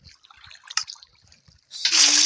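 Water gets collected in the Minecraft video game, a short, bright rushing splash that bursts in at the end after quiet clicks and soft speech.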